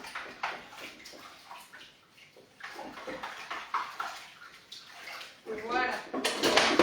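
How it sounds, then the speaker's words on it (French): A salad bowl rinsed under a running kitchen tap, water splashing and gurgling in uneven bursts, close by, while someone talks over it. "Je rince mon saladier et on va monter la mousse."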